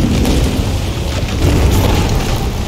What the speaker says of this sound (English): There's meteors falling all around me.